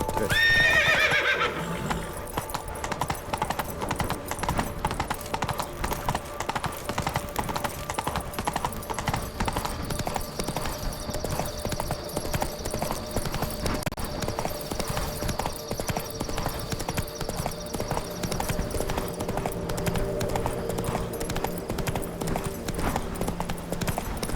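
Hooves of the horse Roach from The Witcher 3: Blood and Wine, a steady clip-clop gait under a constant hum, opening with a loud neigh and whinny, with no talk over it.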